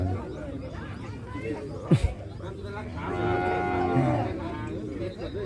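Water buffalo at a Thai livestock market give a long, deep moo that swells and fades, along with a brief sharp knock, while people talk nearby.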